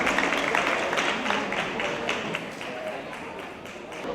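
Audience at a municipal event in Évry applauding, a moderate wash of scattered hand claps with distinct individual taps, tapering slightly before a brief swell at the end.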